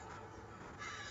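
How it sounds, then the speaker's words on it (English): Crows caw in Minecraft with the Pixelmon mod, a few harsh, raspy calls rising over a steady ambient game background, fairly faint and unaccompanied by talk. "The crows are still laughing at me."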